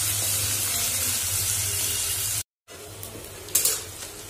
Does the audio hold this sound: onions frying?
yes